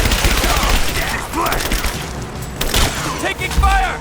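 Gunfire in the battle-royale shooter PlayerUnknown's Battlegrounds, a rolling fusillade of shots with sharp cracks and thuds across the whole stretch, loud and close, mixed with game voices calling out.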